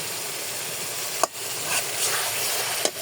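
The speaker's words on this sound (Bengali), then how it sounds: "এখানে যে আলুটা আমি একদম কষাই নিচ্ছি" Potatoes fry in a pan while being stir-cooked for a fish and potato curry. A steady close sizzle hisses throughout, with two brief clacks of stirring.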